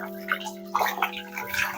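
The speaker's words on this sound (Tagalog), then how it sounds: "syempre huhugasan mo yung bigas" Rice being washed by hand in water, soft sloshing and swishing splashes in a few uneven bursts, close up, with a steady background hum.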